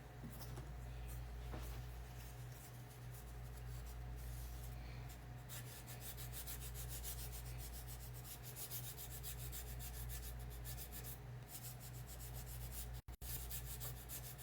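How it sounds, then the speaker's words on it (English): Sandpaper roughing up and distressing a painted Liberty Bell for an Uncle Sam truck insert, a steady continuous rubbing scrape alone with no talk, broken by a brief dropout near the end. "I am going to sand this off a little bit just to rough it up."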